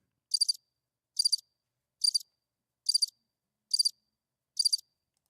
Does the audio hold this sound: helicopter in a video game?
no